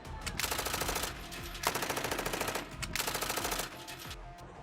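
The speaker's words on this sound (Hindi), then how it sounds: "ईरान की सड़कों पर गोलियां चल रही हैं।" Bursts of automatic gunfire crackle through the streets during violent anti-government protests in Iran, three long rapid volleys separated by short pauses, loud and dense with echoing reports.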